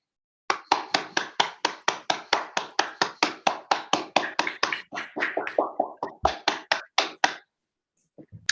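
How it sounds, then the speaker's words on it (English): A small handful of people clapping through online microphones, sharp close individual claps in a quick steady rhythm that thin out and stop near the end. "show our appreciation to him in the traditional way by unmuting your microphones and giving some applause"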